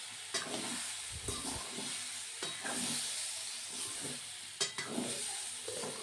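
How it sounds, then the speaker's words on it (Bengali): Kachur loti, a vegetarian Bengali curry of taro stolons, being turned over in a pan. A quiet steady sizzle runs throughout, broken by several sharp scraping stirs. "এবার আবার আরেকটু নেড়ে চেড়ে ভালোভাবে নেব"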